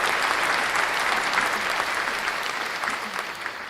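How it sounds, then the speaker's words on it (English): Steady group clapping fills the whole stretch, a dense, even patter of many hands at moderate loudness with no voices on top. "That's worth a clap."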